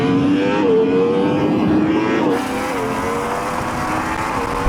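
Porsche Taycan Turbo GT, Ferrari SF90 and Yamaha R1M in a drag race, a loud sustained engine and motor roar with rising, shifting pitch as the machines accelerate, heard from nearby throughout.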